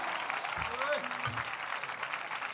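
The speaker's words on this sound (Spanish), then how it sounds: "Fuerte el aplauso a la guitarra David Durán de Los Palacios." Applause from a concert audience for a flamenco guitarist at an outdoor summer flamenco show, a steady wash of clapping that fills the whole moment with a brief voice and low thumps underneath.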